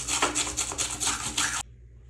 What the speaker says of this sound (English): I like to use some chemicals to clean the edge of the toilet flange here for good adhesion of the wax ring.